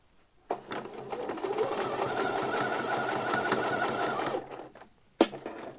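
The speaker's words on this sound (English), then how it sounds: "you want to do a line of stitching along one short edge, then along the long edge here" Sewing machine stitching along the edge of Thai wrap trousers, a steady close whirring run of about four seconds between sharp clicks at start and end.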